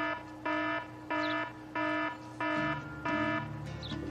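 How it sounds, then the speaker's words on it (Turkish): An alarm beeps in six evenly spaced electronic bursts, each about a third of a second with short gaps, loud and alone in a quiet room. "Alarm ne alaka bu saatte?"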